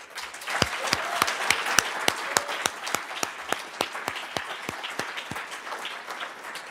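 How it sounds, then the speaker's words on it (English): A conference audience applauds the AV and broadcasting team, a dense round of clapping with sharp individual claps standing out, steady and fairly close throughout. "a huge round of applause for our AV team, Kate Lynch, Carrie Gordon, Pete Murray, and"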